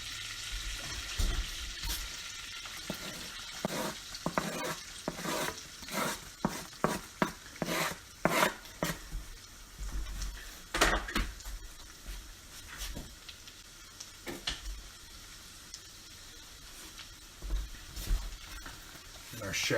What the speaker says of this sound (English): So we're going to go ahead and mix in our garlic first.